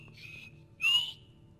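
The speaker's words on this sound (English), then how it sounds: "I know how to whistle, it's just that my mouth was dry." A character whistles in the video game Skyrim, two short high whistled tones, the second louder and sliding, over a faint low background hum with no talking.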